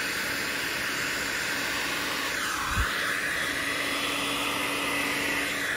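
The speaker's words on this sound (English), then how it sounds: "Then get a heat gun." A heat gun blows a steady, loud hiss of hot air over shrink wrap on a wire join during a boat trailer rebuild, running continuously with a faint low hum and a brief thump midway.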